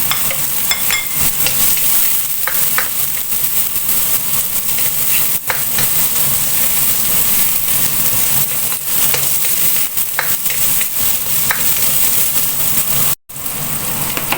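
Onion, ginger and garlic fry in a pan for laing, giving a loud, dense, rain-like sizzle heard up close, with occasional utensil clicks and a brief cut-out near the end. Nobody speaks.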